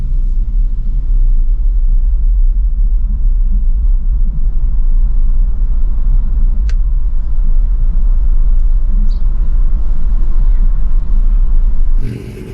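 A BMW i3 electric car cruises through hilly country, with a steady low rumble of road and tyre noise filling the cabin throughout and one faint click partway through.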